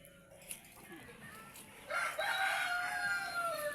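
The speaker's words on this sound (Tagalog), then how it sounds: "Daghan kayong mga manok dire mga guys oh" Chickens on a rural homestead, with a rooster crowing loudly and close in a long drawn-out call after softer clucking and faint background chatter.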